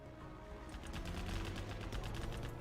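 Rapid minigun fire from infantry in the real-time strategy game Command & Conquer Generals, a dense continuous burst of gunfire that rises after a brief opening and holds steady, loud and close.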